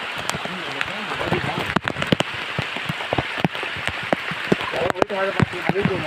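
Heavy rain pours steadily at night during an outdoor crab-catching trip, a dense close hiss with sharp drips and knocks, while people talk and call out over it.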